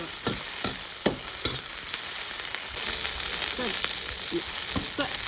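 Guizhou fermented black beans and chili peppers are stir-fried in a wok with a loud, busy sizzle, broken by repeated scraping and stirring strokes. There is no talking.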